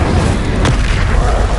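An Incendio fire spell is cast in the Hogwarts Legacy video game, a single short burst that pops up midway through a steady rumbling game background.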